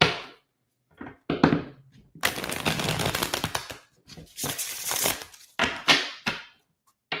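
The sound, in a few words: shuffling tarot cards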